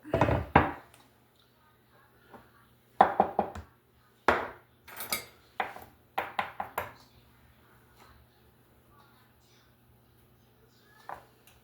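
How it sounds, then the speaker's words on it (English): A cast iron skillet is handled on a kitchen stovetop while making sausage gravy and biscuits, producing a few sharp metallic knocks and clatters in short clusters, with quiet pauses and a low steady hum between them. "Let me get my pan here. A cast iron skillet."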